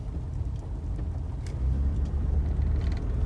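A Ford F150 pickup, lifted and fitted with Anzo Morimoto low-beam headlights, drives on a test drive with a steady low engine rumble and road noise heard from inside the cab, swelling slightly partway through.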